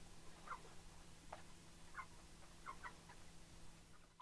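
Faint, scattered chicken clucks come in a few short bursts over a steady low hum.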